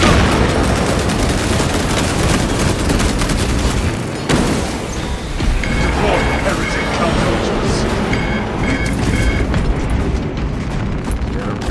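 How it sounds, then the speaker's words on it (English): Loud, dense explosions and crackling gunfire-like bursts in the video game Space Marine 2 as a fragmentation grenade goes off, with booming blasts filling the whole stretch amid continuous battle noise. "Fragmentation grenade."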